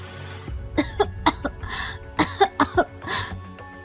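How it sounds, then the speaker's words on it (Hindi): A woman coughs hard in several bursts, two short clusters of harsh coughs with a throat-clearing rasp, close and fairly loud against a quiet background. "वो जोरों से खांसने लगी"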